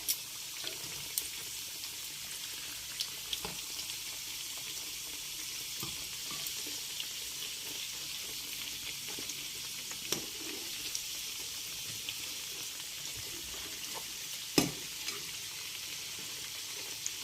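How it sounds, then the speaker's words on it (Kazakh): Flatbread made from ayran and egg fries in a pan until golden on both sides, giving a steady, soft hiss with a few faint clicks and taps. No one speaks. "Екі жағын әбден қызартып қуырамыз."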